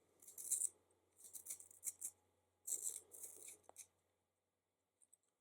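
A sharpener grinding a soft, waxy Prismacolor Premier colored pencil, heard as several close scraping, rasping bursts in quick turns, then a pause and a few faint clicks at the end.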